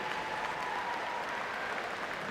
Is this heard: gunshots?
no